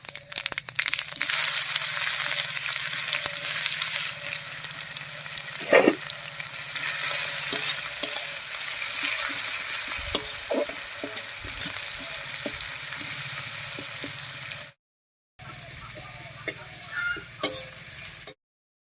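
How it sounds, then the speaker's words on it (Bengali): Whole cumin, bay leaves and chopped onion sizzle loudly in hot oil, a dense steady frying hiss with occasional stirring scrapes and pops, briefly cutting out near the end before resuming more softly. "তেল গরম হয়ে গেছে এবার এই তেলের মধ্যে ফোড়ন দেবো আর ফোড়ন দেবো গোটা জিরা তেজপাতা আর পেঁয়াজ কুচি দিয়ে"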